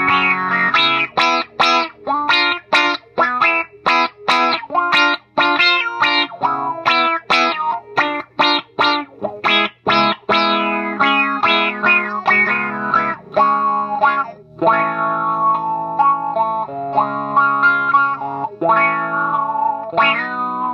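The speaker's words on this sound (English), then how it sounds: "with just a little bit of mix, you're probably going to get more of a phasered effect." Electric guitar played through a Line 6 M5 stompbox modeling a Mu-Tron effect with a light mix, giving a swirling, phaser-like tone. Rapid picked notes and chords ring loud and close, with no talking.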